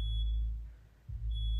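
A broken electronic alarm gives short high-pitched beeps at the start and end, faint over a low rumbling background; no talking.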